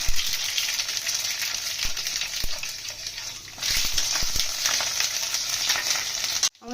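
Loud, continuous sizzling of garlic frying in oil with nigella seeds, dense hiss with occasional stirring clicks, briefly surging louder midway before cutting off at the end.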